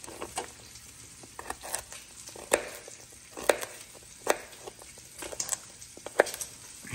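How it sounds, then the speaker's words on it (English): Bacon frying in a pan for corn chowder, with steady crackling sizzle and sharp pops scattered irregularly throughout, close and fairly clear with no talking. "I hear that bacon popping."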